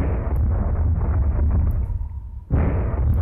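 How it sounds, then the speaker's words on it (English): A piano part layered with explosion effects in music production gives a loud, continuous booming rumble that dips briefly, then hits again with a fresh burst near the end. "So that was made with a piano too, funny enough. Then I double it with a bunch of explosions"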